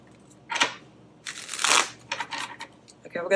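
A deck of tarot cards is shuffled by hand in short bursts of papery riffling and flicking, close and clear, separated by brief quiet gaps.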